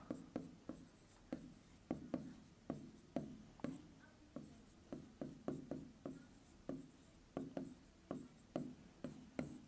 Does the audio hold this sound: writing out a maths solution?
yes